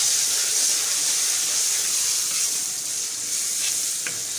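Masala of tomatoes, green chillies, bay leaf and ginger-garlic paste sizzles steadily in a hot pan as it is stirred, a close, continuous hiss with faint scraping near the end.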